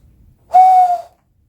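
Owl hoot imitated by a man blowing into cupped hands: one steady, pure hollow tone lasting about half a second, loud and close, alone in a quiet setting.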